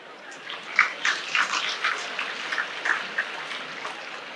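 Students, parents and teachers applaud at a student award ceremony honouring 1800 children. The clapping forms a continuous, rain-like patter with a few louder surges, and voices call out over it.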